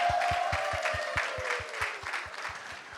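Applause rises from a gala audience at a Montreal church community event, steady and close, while a regular thumping beat of music pulses underneath and a sustained tone drifts through.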